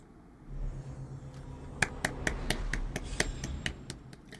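A single person clapping hands about a dozen times in a quick, even rhythm, sharp close claps after a brief rustle, with no talk.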